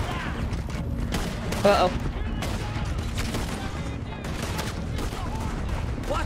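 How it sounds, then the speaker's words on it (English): Gunfire from a Red Dead Redemption 2 shootout, rapid volleys of shots popping over a busy battle din, with a voice briefly talking over it. "I should probably use my gun."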